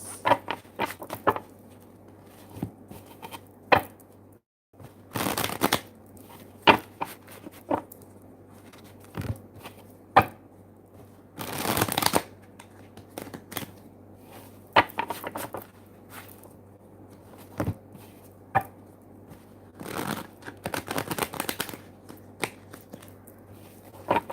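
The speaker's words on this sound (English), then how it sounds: "I'm gonna shuffle this traditional deck" A deck of cards is shuffled again and again, with crisp riffling bursts and light taps and clicks between them, close up and without any talking.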